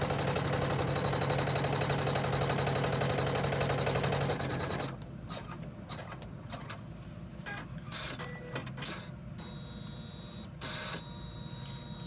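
A sewing machine stitches the seam of an in-the-hoop bag at close range: a steady, loud mechanical whir for about four seconds, then it stops and a few faint clicks and handling knocks follow.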